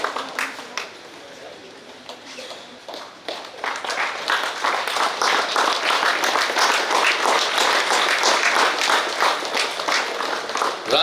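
A live audience at a road safety event claps loudly for a guest, with dense, sustained applause that swells after a few seconds and holds strong to the end.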